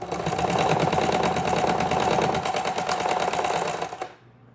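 A sewing machine stitching a fabric hem runs steadily at a fast, even rhythm, whirring and clattering close up for several seconds before stopping abruptly.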